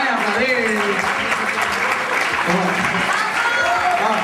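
A studio audience at a televised comedy show in Mallorca claps loudly and continuously for a comedian, close and full, while a voice speaks over the applause.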